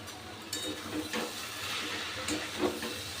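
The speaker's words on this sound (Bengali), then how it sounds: "আবারও একটু ভালো করে নেড়ে দিচ্ছি।" Grated taro with slit green chillies frying in a pan, a steady sizzle with soft scraping stirs at intervals, close and moderately loud, no voices.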